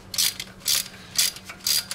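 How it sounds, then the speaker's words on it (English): A ratchet wrench clicks in steady bursts while loosening a car spark plug during a tune-up, about four quick ratcheting strokes close up and fairly quiet. "You want to keep your wrench nice and straight. And you unscrew it."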